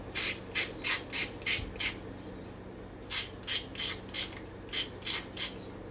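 Rhythmic raspy scraping as a spoon works through the inside of a halved squash or zucchini for a vegetable casserole, close and fairly loud, in two runs of about five quick strokes each with a short pause between.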